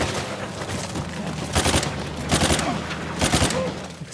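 Bursts of automatic gunfire in the video game Uncharted 4: A Thief's End, loud rapid volleys in several separate clusters, with someone talking over the game sound.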